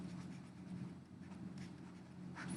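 Chalk or pen writing on a board during a physics class, a steady scratchy stroke running under a constant hum of room noise, with no talk.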